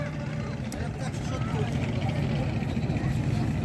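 A trawler boat's engine chugs steadily at a riverside cattle market at Postogola cremation ghat, a low rumbling drone under crowd babble and people talking nearby.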